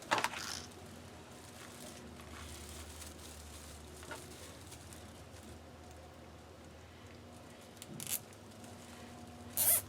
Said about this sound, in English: And I'll zip tie it.